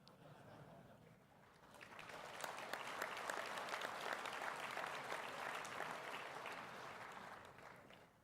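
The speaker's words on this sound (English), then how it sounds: "That clap was for Boya." A crowd breaks into sustained applause, many hands clapping steadily for several seconds after a brief murmur, fairly distant and even in volume.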